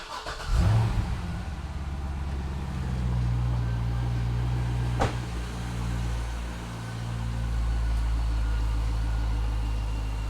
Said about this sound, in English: I'm gonna go ahead and start the car engine.